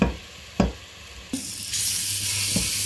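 Leaves frying in oil for ikok, a steady close sizzle broken by a few sharp knocks of a utensil against the pan, with the frying hiss growing brighter and fuller toward the end.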